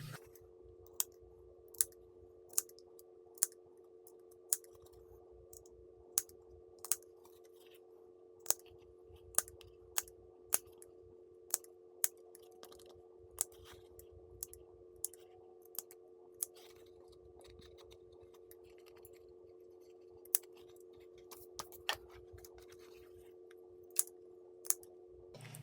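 Scissors snip through fabric, trimming curved seam allowances on a sewn bag's exterior and lining pieces: sharp, crisp cuts repeated in an irregular rhythm over a steady low hum, close and clear, with no talking.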